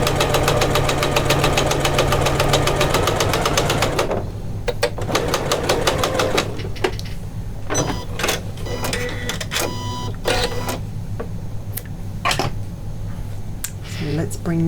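Janome sewing machine stitching pintucks with a cord guide: a fast, steady mechanical stitching drone for about four seconds, then it stops, leaving scattered clicks and short handling sounds under a low hum.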